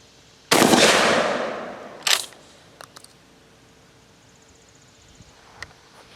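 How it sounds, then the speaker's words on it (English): A GForce GF12 pump shotgun fires one loud, close blast that decays over about a second, followed by a sharper second report and a few quick mechanical clacks from the pump action. "You know you're firing a gun"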